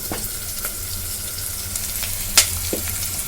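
Ingredients fry in hot oil with a pinch of turmeric as the base for poha upma, a steady soft sizzle with a few sharp crackles and spatters.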